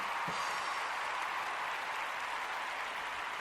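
Studio audience applause on a late-night talk show, a steady wash of clapping that holds at an even level from start to finish, with no voices over it.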